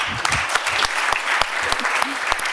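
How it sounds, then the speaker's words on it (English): An audience applauds warmly after a Q&A discussion, with dense, sustained clapping and scattered sharper claps throughout. "We will bring you some traditions and also warm applause from everyone."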